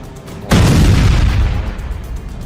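Gas pipeline blown apart in Balochistan: a sudden loud boom bursts in after a low rumble, then a long roaring, rumbling tail that slowly fades but stays heavy.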